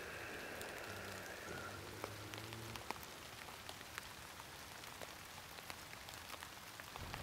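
Steady rain falls in a dense hiss with scattered sharper drops ticking close by, faint and constant throughout, with no voices.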